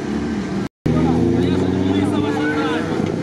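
UAZ off-road vehicle racing in a Monster Trophy 2020 TR-0 class off-road event, its engine roaring loud and close with a brief cutout, as other cars compete nearby.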